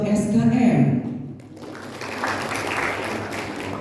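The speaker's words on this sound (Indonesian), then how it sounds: "tepuk tangan untuk Bapak" An audience at a regency reading ambassador award ceremony applauds a welcomed guest, a steady wash of clapping that follows a brief spoken announcement and continues to the end.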